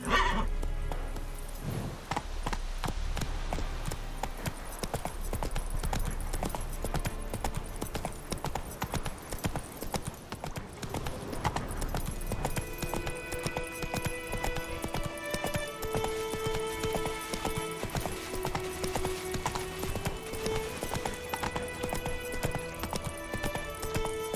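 Horse hooves clip-clop at a galloping pace in The Witcher 3, with neighs and whinnies and a steady rhythmic beat that carries throughout under layered game music.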